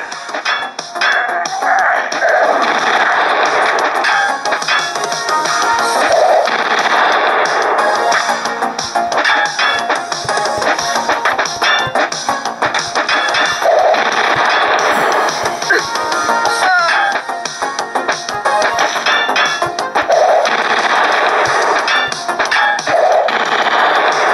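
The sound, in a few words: chain gun firing in an iPad arcade video game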